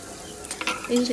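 Cabbage tipped into a hot frying pan for a Bengali spinach ghonto with hilsa tail, giving a close, soft sizzle and stirring scrape that swells near the end, with no talk.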